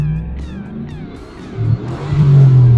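A repaired LS V8 engine with newly fixed injectors revs up loudly and smoothly, climbing from a low rumble into a strong sustained roar heard close up with no talking.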